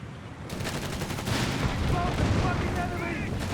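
Gunfire in a Company of Heroes 3 World War II battle pours onto German Grenadier infantry: a dense, continuous crackle of rifle and machine-gun shots, with heavy rumbling blasts mixed in and a few faint shouts.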